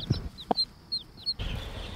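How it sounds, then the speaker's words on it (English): Poultry on a homestead, turkeys kept alongside chickens, give a few short, separate clucks with brief gaps between them, close and moderately loud, over a quiet outdoor background that grows slightly busier toward the end. "And these are our turkeys."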